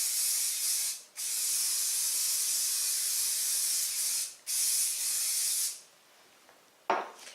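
Close, loud aerosol spray hissing onto upholstery foam in long bursts with brief pauses between, followed by a quieter stretch and a short final spurt.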